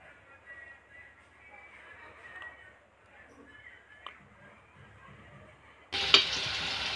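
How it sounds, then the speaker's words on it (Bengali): Potatoes with turmeric are stirred and fried in a pan, with soft, quiet stirring for several seconds before a sudden loud burst of hissing sizzle near the end. "দেওয়ার পর আমরা আবার নেড়ে চেড়ে ভাজি করতেছি।"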